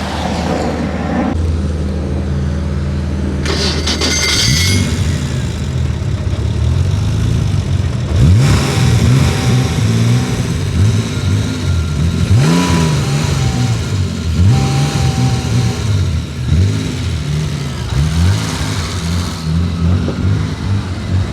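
A BMW 135i with the N55 engine and a bad battery revs repeatedly in a series of rising and falling pulls, loud and close, with a steady idle hum between bursts and no talking.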